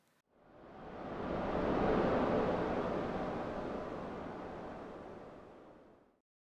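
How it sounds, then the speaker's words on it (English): Ocean waves from the game Deltarune: a single soft wash of surf swelling in over a second, holding broad and hissing, then fading away, gentle and without voices. "you may recognize this audio as being ocean.ogg"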